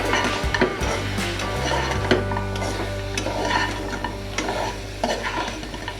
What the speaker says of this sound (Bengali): এটাকে ভালো করে নেড়ে চেড়ে আমি এখন এটাকে নামিয়ে নিব